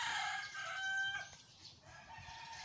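Fighting roosters crowing faintly at a distance, one drawn-out crow followed by softer farmyard calls in a quiet outdoor setting.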